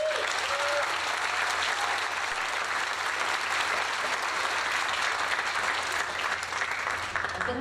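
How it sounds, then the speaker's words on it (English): Sustained audience applause at a Herricks High School 9th grade orchestra concert, a steady dense wash of clapping that holds evenly from start to finish at moderate level. "Could you give them another round of applause?"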